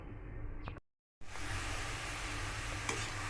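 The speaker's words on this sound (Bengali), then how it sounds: "তেলটা গরম হয়ে যাওয়ার পর আমি পেঁয়াজ বাটাগুলো দিয়ে দিচ্ছি।" Onion paste hits hot oil in a wok and sets off a loud, continuous sizzle. It follows a short stretch of near-silence, with an occasional stirring scrape and no talk.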